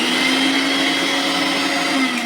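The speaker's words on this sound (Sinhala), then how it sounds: "දැන් අපි බලමු බ්ලෙන්ඩර් එක වැඩ කරනවද කියලා" A repaired electric blender with a newly wired plug top runs in one continuous, steady whine, loud and close, with no voices over it.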